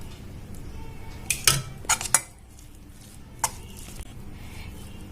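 A metal spoon stirs tomato rice in a pot, giving several sharp clinks and scrapes against the pot in a loose cluster, then a quieter gap and a couple more knocks at close range.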